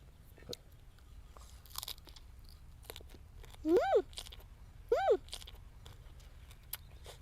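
Crisp whole grilled chicken being bitten and chewed, with repeated close, dry crunches scattered through the clip. Two short, rising vocal sounds also stand out.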